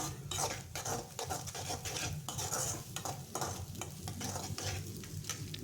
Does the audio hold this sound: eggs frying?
yes